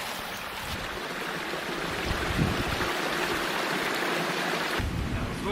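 A creek flows through a Pennsylvania forest of still-bare deciduous trees in spring, a steady, close rushing of water that continues evenly with no voices.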